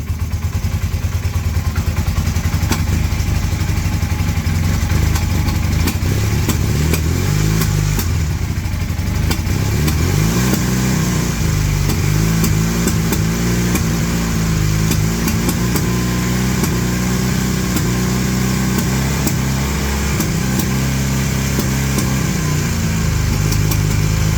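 A Honda CM400 motorcycle engine, running for the first time in 25 years, chugs loudly and steadily up close, its pitch rising and falling as the throttle is blipped and revved over about twenty-four seconds.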